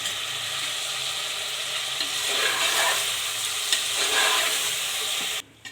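Chilli mutton fries in a pan and gives off a steady, close sizzle while it is stirred, with scraping swells partway through before the sound cuts off abruptly.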